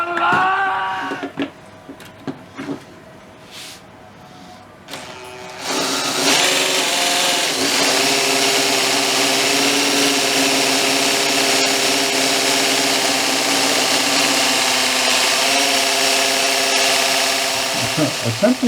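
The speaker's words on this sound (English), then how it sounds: "Attempting to pump slip, it actually does pump, and it does pump 4 liters over a minute, but it's straining." A 3D printed peristaltic pump starts up and runs while pumping clay slip, heard as a loud, steady mechanical whir with a straining motor tone after some brief knocks and handling sounds at the start.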